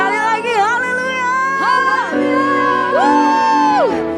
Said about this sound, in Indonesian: Sama-sama sorakan haleluya.